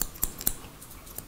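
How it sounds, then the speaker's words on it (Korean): Hair being cut with scissors during an older man's short haircut, heard as a few crisp, close snips at irregular intervals over a quiet background. "자, 이렇게 가위로 하면 이제 굴리는 것도 쉬워."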